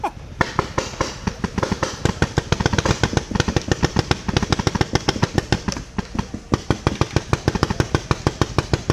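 Paintball guns firing in a large outdoor game against about a hundred players, a dense rapid stream of sharp pops from several markers at once, steady and fairly close for nine seconds.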